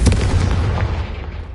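A Confringo blasting spell goes off in the Hogwarts Legacy video game, a loud, dense burst with a heavy low rumble that sustains and slowly tails off over about a second and a half.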